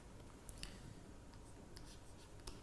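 A pen writing on paper during a lecture, heard as faint, soft scratching strokes with a few small taps, close by and quiet, with no talking.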